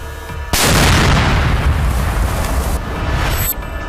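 A single loud explosive blast during fighting against Naxal insurgents in Bijapur, Chhattisgarh, hits suddenly and rolls into a long, decaying rumble over several seconds.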